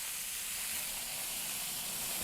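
Beef steak sears in a smoking hot pan with a steady, loud, even sizzle and hiss that runs unbroken throughout, close up, with no voices over it.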